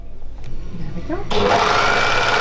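A Juki MO-654DE overlocker starts up and runs steadily, a close, loud, continuous mechanical whir following a short stretch of speech.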